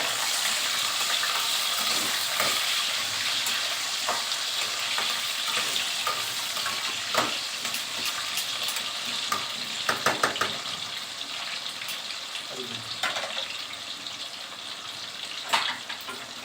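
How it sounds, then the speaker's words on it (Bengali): Potatoes frying in hot oil in a home kitchen, a steady close sizzle with occasional clinks of stirring throughout. "সেমভাবেই আলুগুলোকেও ভেজে নিতে হবে।"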